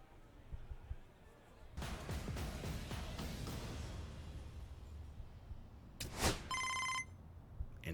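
A telephone rings within the MLB 25 Road to the Show baseball video game, a short electronic ring near the end following a stretch of game noise and sound effects, no talking over it.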